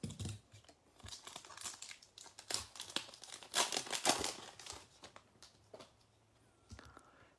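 Foil wrappers on 2021 Topps Chrome baseball card packs being torn and crinkled open, a run of quiet, close crackles and rips in irregular bursts, without voices.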